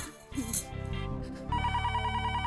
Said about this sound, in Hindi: अरे टप्पू के पापा ने सामने से फोन किया